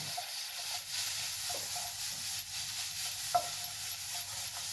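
Onions for a tuna-onion quiche cook slowly in a pan, a steady soft sizzling hiss running throughout with a few light clicks of stirring.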